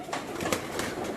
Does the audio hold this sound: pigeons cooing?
yes